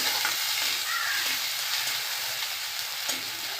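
Garlic and ginger paste frying in a pan for a potato and cluster bean masala curry, giving a steady, dense sizzle that holds evenly throughout with no voices.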